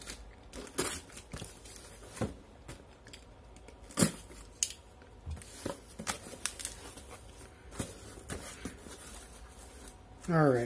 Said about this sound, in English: let's just cut this open